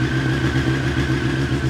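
Deep, steady engine drone from a Honda CBR954RR with a Retro Micron exhaust, loud and close, holding an even note for a brief moment.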